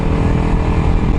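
Kawasaki Ninja 250SL engine running in a brief burst of steady, loud engine drone mixed with wind noise, no voices.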